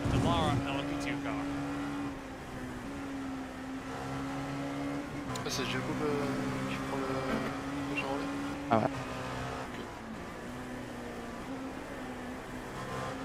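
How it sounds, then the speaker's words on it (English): Onboard engine of a Dallara LMP2 race car in a racing game at Watkins Glen, a loud steady drone with rising and falling pitch through gear changes, while people talk over it. "Enjoy the sound of the Delara LMP2 car."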